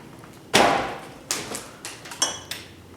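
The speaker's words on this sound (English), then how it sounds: "I'm gonna tap it a little bit with the screwdriver to get the pin through." Metal pin tapped out of a LiftMaster screw-drive garage door opener carriage with a screwdriver: one loud sharp metallic knock followed by several lighter taps at uneven intervals, close and clear.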